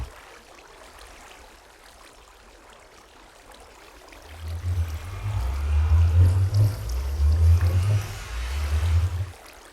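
A Minecraft water stream flows and trickles, faint at first, then a louder low, pouring burble rises and carries on for the second half.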